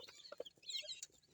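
Chicks of a Lingnan and Elba chicken cross cheep inside a brooding cage, a few faint high peeps and soft clucking chirps scattered over a quiet background with no talk.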